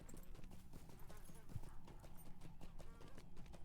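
Horse hooves clip-clop steadily in LOTRO (The Lord of the Rings Online) as a mount trots along near a bog, the even rhythm running throughout over low game ambience.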